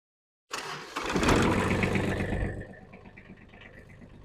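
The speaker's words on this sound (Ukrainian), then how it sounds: "ми витискаємо щеплення і заводимо тракторець" A small Kubota tractor engine cranks and catches, revving up loudly before settling into a steady chugging idle nearby.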